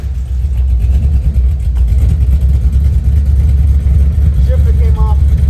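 Deep, loud rumble of a built Yukon Denali with an LQ4 V8 and LS3-style top end, steady low idle or light revving close by, with a brief voice near the end.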